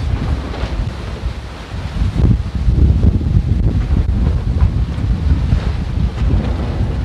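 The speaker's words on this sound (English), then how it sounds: "And now with the wind picking up, yeah, it's getting kind of wild." Strong wind buffets the microphone on a sailing boat at sea near Morro Bay, roaring loudly and continuously with gusts, while waves and water rush against the hull underneath.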